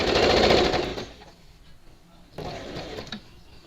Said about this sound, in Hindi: ये देखिए मैंने एक किनारे किनारे एक टॉप स्टिच दिया